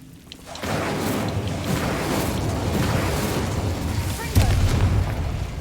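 An Incendio fire spell in Hogwarts Legacy bursts into a sustained roaring blast, with a second heavier boom near the end, loud and close.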